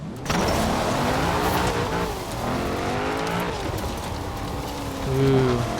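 A McLaren Senna supercar driven fast in Forza Horizon 4, its engine roaring continuously up close with rising and falling revs and hints of tire squeal, no voices present.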